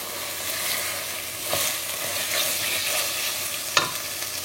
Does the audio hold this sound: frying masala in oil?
yes